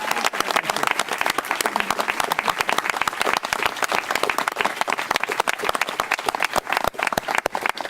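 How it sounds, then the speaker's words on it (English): Sustained applause from a crowd at a park groundbreaking ceremony, dense rapid clapping that stays loud and steady throughout with no voices. "Let's give one more community round of applause, ladies and gentlemen."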